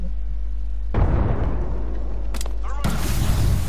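Gunfire and booming impacts strike in Apex Legends during a Gold Rush Duos match, arriving as two loud, sudden blasts with sharp cracks between them over a constant low rumble.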